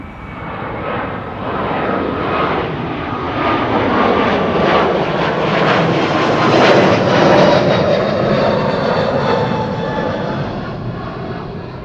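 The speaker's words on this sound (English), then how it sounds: "this is JetBlue flight 62289 to New York JFK, an A321neo" A JetBlue Airbus A321neo departing Amsterdam Schiphol for New York JFK, its jet engines building into a loud, broad roar that swells to a peak mid-pass and then begins to ease, with no talk over it.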